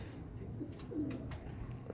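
Pigeons kept by a traditional pigeon fancier give a brief, low cooing murmur, soft and close, alone without speech.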